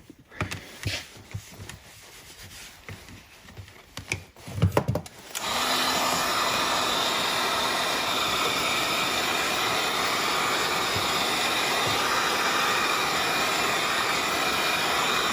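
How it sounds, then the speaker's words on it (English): A heat gun switches on with a steady, loud blowing roar as it heats leather for a tool pouch, running continuously after a few seconds of handling and knocking, with no talking. "heat it one more time here with the heat gun"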